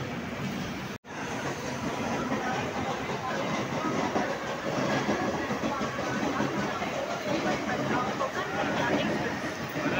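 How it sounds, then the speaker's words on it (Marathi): A Konkan Railway train rolls steadily with a constant rumbling drone, joined by crowd babble and voices from a busy station after a brief cut near the start. "इकडे दुसरी ट्रेन आली आहे, कुशीनगर एक्सप्रेस, गोरखपूर कुशीनगर"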